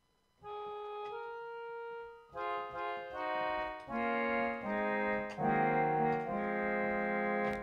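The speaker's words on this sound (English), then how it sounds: "So this is an accordion" A sampled accordion plays from a computer as a sequence of sustained, reedy chords with distinct note changes, clear and fairly soft with no talking.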